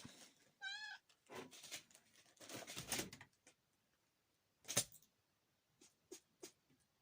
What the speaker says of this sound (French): Ah, le chat revient.